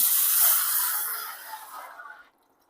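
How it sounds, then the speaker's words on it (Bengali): Water splashes into a pot sitting on a hot stove, making a loud hissing burst that fades over a couple of seconds into a quieter sizzle, then stops, with no speech. "রস করার জন্য এখানে একটা পাত্র বসিয়ে নিয়েছি আর এখানে আমি সামান্য জল দিয়ে দিচ্ছি"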